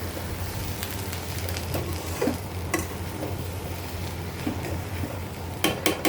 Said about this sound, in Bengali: ভাজা ভাজা করব বুটটা।